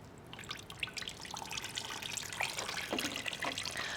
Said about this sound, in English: sometimes just the tree fern turns the water a little bit brown, so I just like to rinse it through a few times when I'm first watering it